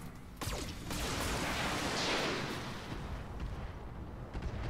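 Gunfire in the tactical shooter game Roguepoint, a dense wash of rumbling shots and debris noise with a few sharper cracks, continuous and fairly loud throughout with no talking.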